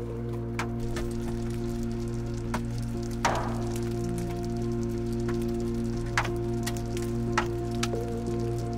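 Rain patters steadily on a vehicle during a Texas tornado chase, with occasional sharp drips and clicks over a constant low hum.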